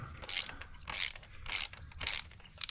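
A ratchet wrench loosens spark plugs on a 2016 Lexus NX200t at close range. It makes four evenly spaced bursts of dry, rapid clicking, each about a quarter second long.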